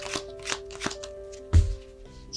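Tarot cards being shuffled and drawn, giving a few soft riffling swishes and a heavier slap near the middle, close by and with no talk.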